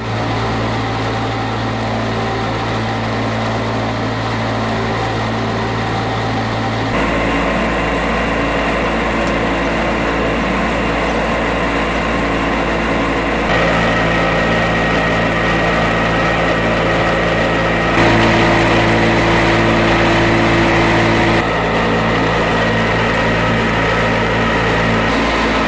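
A sawdust dryer and crusher machine runs steadily with its air fan, a loud continuous mechanical drone with shifting hum tones and no talk.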